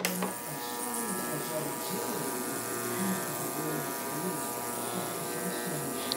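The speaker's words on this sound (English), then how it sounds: "Ultrasonic cleaner." An ultrasonic cleaner runs with a steady, close electric buzz and hum during a Moen shower faucet repair, holding an even drone throughout.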